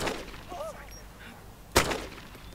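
A single sharp gunshot cracks out in the survival video game DayZ, loud and abrupt after a stretch of quieter game ambience that carries faint tonal sounds.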